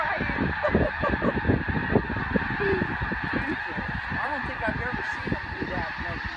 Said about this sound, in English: Their great migration fills the skies with an unmistakable sound, a thunderous chorus of wings and calls